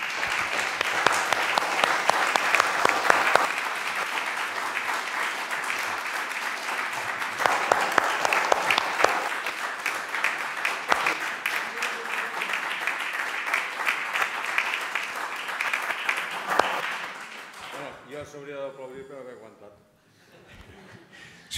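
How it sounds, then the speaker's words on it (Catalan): Audience applause after a lecture on Catalan mining and mining heritage, a full room clapping steadily and loudly for about seventeen seconds before fading out, followed by a voice. "Jo crec que es mereix un fort aplaudiment al doctor."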